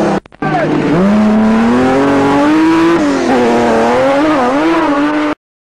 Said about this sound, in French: Darniche, au volant de cette ravissante BMW M1